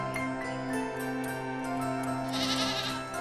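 A goat in an animated farm story bleats in a long, steady, wavering call, close and fairly loud over a soft musical background.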